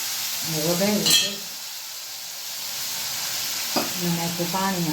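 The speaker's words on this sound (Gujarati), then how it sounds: "હિંગ મૂકી અને વઘાર્યું છે." Asafoetida hits hot oil in a tempering of cumin, mustard and fenugreek, giving a close, steady sizzle with a voice briefly over it at the start and end.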